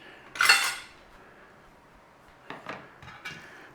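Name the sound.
stirring chicken marinade in a bowl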